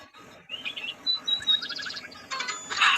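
A crow in a fishing video game gives a run of short, bright calls in quick bursts, growing louder and denser toward the end, with faint insect-like background and no talking.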